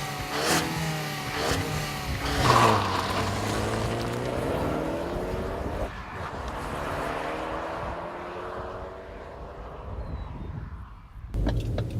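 A small Ford sports car engine revs hard, its pitch climbing then easing off and climbing again, loud and close, ending with a brief burst.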